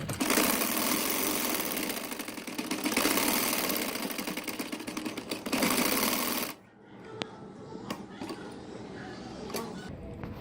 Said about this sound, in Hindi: यहाँ पे मैं इसको डबल सिलाई लगाऊंगी ताकि ये खुले ना।